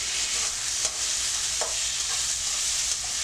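Tomatoes, curry leaves and green chillies sauté in a pan for South Indian mustard chicken, a close, even hiss of frying with a few soft stirring scrapes and no voices.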